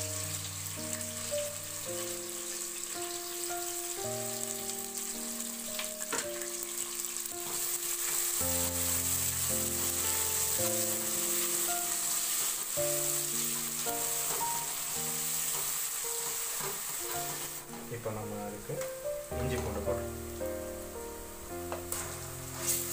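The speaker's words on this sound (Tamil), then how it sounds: "இப்போ எண்ணெய் காஞ்சிருச்சு. இதில் நம்ம எடுத்து வச்சிருந்த 1/2 கிராம் ஏலக்காய் வெங்காயத்தை ஃபர்ஸ்ட் போட்டுருவோம்." Onions and cardamom sizzle loudly and continuously in hot oil for a vegetable biryani, close up, with soft stirring, under steady background music and no talk.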